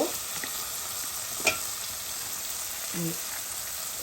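A turnip and fish curry sizzles in a pan as garlic paste is added, a steady close frying hiss with a single sharp clink and a few soft stirring sounds.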